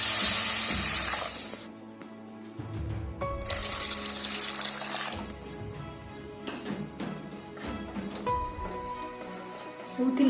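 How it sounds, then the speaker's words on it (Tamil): Two cups of water poured into a sizzling pan of crab gravy: a loud initial splash and hiss that fades, followed by intermittent clinks, stirring and watery sounds at moderate volume. "இப்போ வந்து இதில் ஒரு 2 கப் தண்ணி சேர்க்குறேன்."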